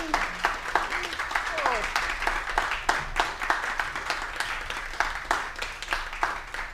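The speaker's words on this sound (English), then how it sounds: "Let's give them a round of applause." Small-venue audience applause for the staff of a jazz club, sparse distinct claps in an uneven rhythm with voices and cheers mixed in, fairly close.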